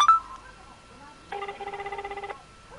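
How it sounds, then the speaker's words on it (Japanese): Telephone call being placed: a short dialing beep, then a steady electronic ringback tone pulsing for about a second, close and clear with no talk over it. "じゃあもう一回電話してみます。"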